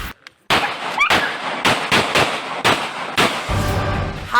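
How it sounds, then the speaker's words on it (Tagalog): A 9mm handgun fires repeatedly, about seven or eight sharp, loud shots at uneven intervals, close by, with a brief rumble trailing the final shot. "Habang nasa bisig niya ang sanggol, ang baril, walang habas niyang pinagpuputok."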